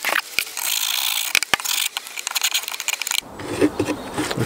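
Metal hive tool scraping propolis and wax from the rebates of a wooden bee hive box, a steady rasping scrape with sharp knocks, shifting to a rougher, choppier scraping in the final second.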